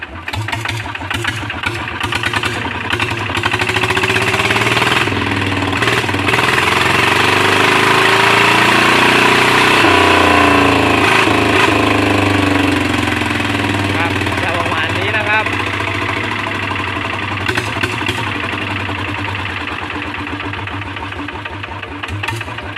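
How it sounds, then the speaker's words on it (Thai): A small engine idles with a steady, fast mechanical chatter, loud and close, with a few throttle changes and no talk. "เดี๋ยวติดเครื่องให้ชมนะครับ"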